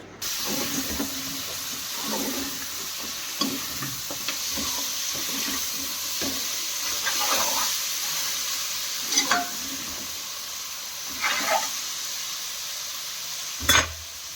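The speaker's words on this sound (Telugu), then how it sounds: "ఆనియన్స్ ఫ్రై అయిపోయాక అందులో చికెన్ని కూడా యాడ్ చేసి ఒక టూ మినిట్స్ అలా ఫ్రై చేసుకుంటున్నాను" Chicken pieces frying with onions in a pan, village-style country chicken curry on the stove: a steady sizzle runs throughout, broken by a few louder stirring scrapes and clinks, with no talking.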